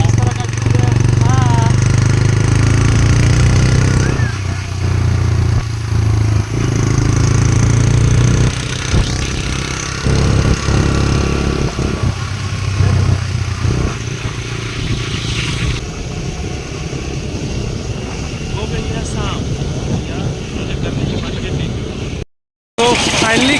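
A motorbike rides along a crowded market road in Rasalpur during the Chhath festival rush, its engine droning steadily and close throughout with traffic noise around, while people talk over it.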